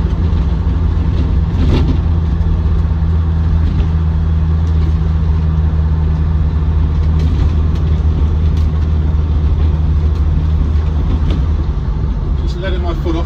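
A Land Rover Defender 90 TD5 station wagon engine drones steadily from inside the cab with the throttle released sharply, a low even hum holding throughout with faint rattles and no clear clunk.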